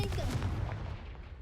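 Confringo blasting spell cast in Hogwarts Legacy, a short booming blast with a rumbling low-end burst that fades quickly over about a second, loud and close.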